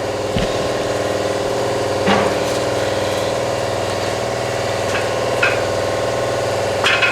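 A Katool tire machine hums steadily as a tire is spun around on it, a continuous mechanical drone with a few faint knocks and clatters over the top.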